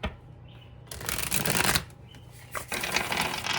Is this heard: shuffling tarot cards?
yes